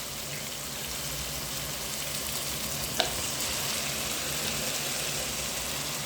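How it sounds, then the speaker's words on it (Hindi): Taro root (arbi) frying in roasted masala gives a steady, even sizzle throughout, broken once by a single sharp click midway. "सात से 8 मिनट इसकी भुनाई करेंगे अच्छी तरीके से।"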